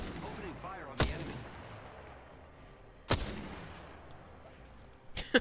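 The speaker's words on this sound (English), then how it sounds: "Opening fire on the enemy." Gunshots in Apex Legends: two loud, isolated reports about two seconds apart, each trailing off, followed by a quick cluster of shots near the end over a low game background.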